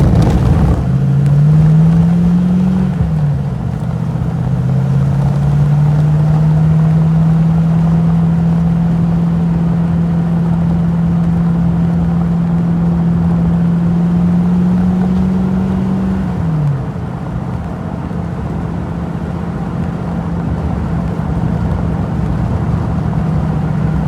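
A V8 car engine drones while cruising on roads into the Derbyshire Peak District, a loud, steady in-cabin hum that rises briefly through a gear change, then holds a constant note before easing off near the end.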